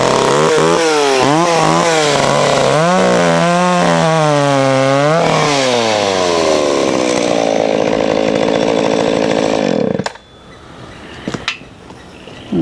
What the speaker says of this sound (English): we'll do a couple of quick cuts with it here